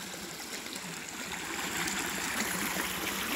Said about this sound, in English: But now the creek has decided to run over here.